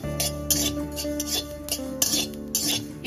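Two spoons of black cumin seeds are dry roasted in an empty kadai on a gas stove, with a metal spatula scraping and clinking against the pan in a quick, uneven rhythm, close and alone.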